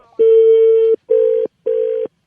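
Three loud, steady telephone keypad tones sound in a row as a number is dialed, one long tone followed by two shorter ones with brief gaps between them, clear and with no talk over them.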